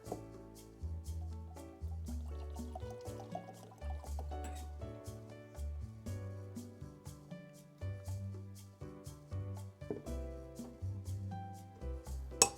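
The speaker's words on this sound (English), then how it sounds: "let's go ahead and pour it in a glass and see what we get" Elijah Craig 18 year bourbon gurgles and trickles into a glass in a series of soft, close liquid splashes and drips, faint and uneven.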